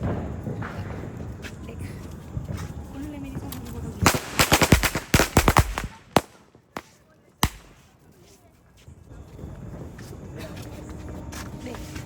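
Diwali firecrackers go off close by in a burst of rapid sharp cracks and bangs, followed by a couple of isolated loud pops, with people talking and background noise before and after.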